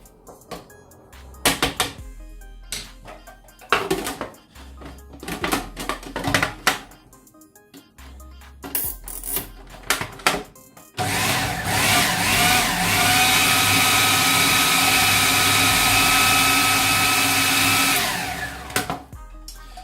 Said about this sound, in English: they don't like being in the food processor